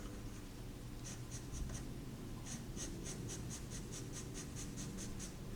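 Pencil shading a dark area of a hair drawing, heard as a run of soft, quick scratchy strokes close up, first in scattered bursts and then in a steady rhythmic series of back-and-forth scribbles.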